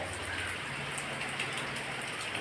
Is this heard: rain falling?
yes